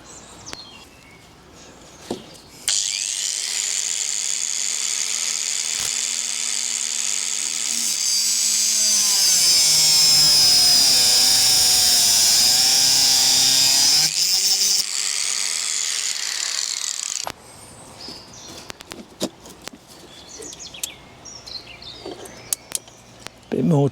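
A power tool cuts garden railway track ends to length with a loud, sustained high whine that rises and shifts in pitch for about fifteen seconds, then stops, followed by scattered handling clicks and taps nearby.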